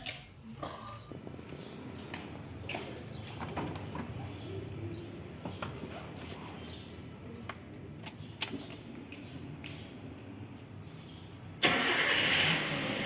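A Toyota Avanza with its MIL engine warning light on starts up, a short cranking burst catching into a steady mid-pitched idle that runs on, with faint birds outside and a sudden loud noise near the end.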